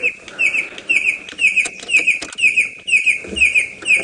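A bird calls repeatedly at close range during a sunrise safari drive, sharp chirping notes coming in a regular rhythm roughly twice per second, loud and alone.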